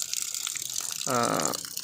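Rainwater from a home rainwater harvesting setup runs steadily down a drain pipe, then swells into a louder gush for about half a second before settling back.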